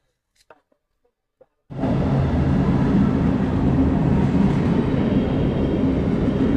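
A few faint clicks in near silence, then a loud, steady rumble of a train suddenly starts and continues without a break.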